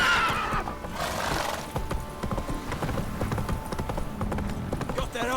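In The Witcher 3, the horse Roach trots with steady clip-clop hoofbeats and gives a whinny early on, set against game ambience with a voice occasionally over it.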